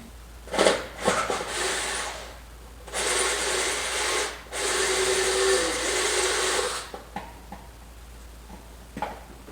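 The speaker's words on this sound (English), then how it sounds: "I'm going to try to drill a hole over in this area here." A power drill whirs in bursts while drilling a hole in a Peterbilt 359 truck near the air cleaner, with short starts and stops and a couple of longer grinding runs, fairly close.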